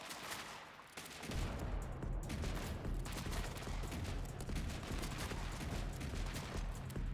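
Rocket fire and explosions in a shotgun video game, a dense, loud, continuous barrage of blasts and rumbling after a quieter first second.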